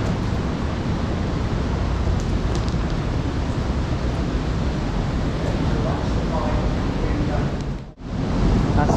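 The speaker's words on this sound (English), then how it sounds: "it's the water rushing down this pipe" Water roaring steadily down a pipe in an underground mine, a loud continuous rush filling the space, briefly dipping near the end, with people talking over it.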